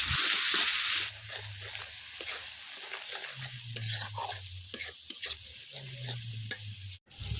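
Spice masala with chilli powder frying in a pan for a young goat mutton curry, a steady close sizzle broken by repeated scraping stirs of a spoon against the pan, with no voices.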